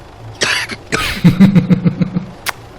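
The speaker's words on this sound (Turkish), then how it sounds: "Öksüreceğim abi. Abi öksür." A man coughs over a voice chat while playing Arma 3 Wasteland multiplayer: a couple of harsh, loud coughs up close, followed by a rapid burst of shorter throaty hacks and a final sharp click.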